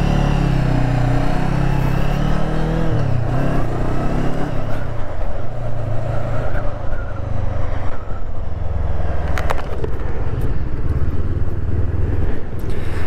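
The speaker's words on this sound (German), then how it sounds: "Ja, wir haben hier einen 2-Zylinder-Motor mit 47 PS, 43 Newtonmeter." Brixton Crossfire 500 X motorcycle with a 47 hp two-cylinder engine, running loud and close with a steady throbbing rumble and slight shifts in pitch throughout.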